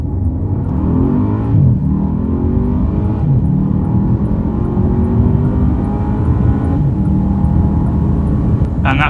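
A Bentley Continental GT accelerates hard up to 100 mph, its engine droning steadily with rising pitch and wind and road roar, loud and continuous from inside the car, with no talk.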